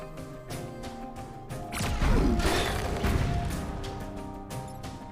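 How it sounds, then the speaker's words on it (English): An explosion in the turn-based strategy game Into the Breach, a dense crashing burst that swells around the middle with a low thud and rumble, set against steady synth game music. "that explosion doesn't damage the stuff around it"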